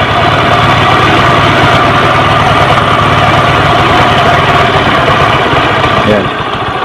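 A Kawasaki LS 135 motorcycle engine idles after a carburetor air and fuel mixture adjustment, a loud, close, steady chugging rumble that runs unbroken before easing slightly at the very end.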